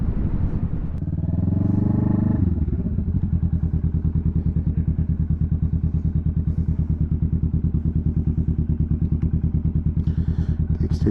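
A 2021 Kawasaki Vulcan S fitted with a very loud exhaust pipe revs briefly after starting, then settles into a loud, steady, thumping idle close by.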